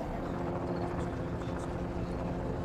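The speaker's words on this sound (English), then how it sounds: "there's a helicopter" A helicopter passes over a barricade in a steady, loud, continuous rotor drone, with nothing else heard and no voices.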